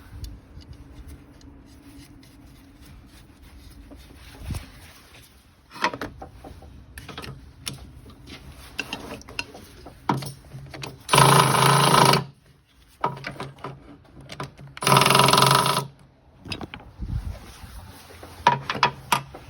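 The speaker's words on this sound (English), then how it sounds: "Put the nut back on." Tightening a nut on the motor mount of a 2006–2007 Chevy Monte Carlo SS, with scattered metallic clicks and ratcheting taps plus two loud sustained bursts that sound like a power tool spinning the nut down.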